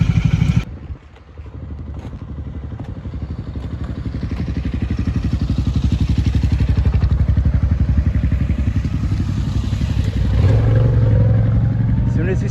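Dual sport motorcycles roll into a camp on a San Diego overnight trip, their engines a loud, steady, close drone that builds and then holds with a rougher pitch near the end.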